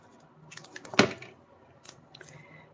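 Craft tape snipped with scissors: a single sharp snip near the middle, with fainter handling rustles before and after, close and quiet, no talking.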